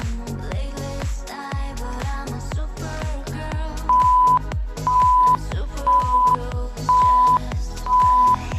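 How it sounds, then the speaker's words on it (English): Rhythmic music thumps steadily during a workout class while a series of five evenly spaced electronic timer beeps sounds over it near the end. "Beeps to let you know we got 5 more to go"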